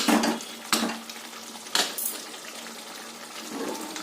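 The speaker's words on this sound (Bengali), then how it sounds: "মাংসটা কম, এর মধ্যে সামান্য একটু গরম জল দেবো," Hot water is added to a pot of cooking mutton in a home kitchen, a few short sizzling splashes against a steady frying hiss, with faint clinks of the pot.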